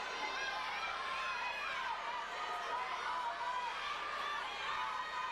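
A state wrestling championship crowd cheers and roars steadily at a distance, a dense continuous wall of shouting voices throughout.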